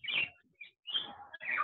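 A pet bird chirps behind a house, heard through an open microphone: a string of bright, rapid chirps and short trills in close bursts, with brief gaps and no talking.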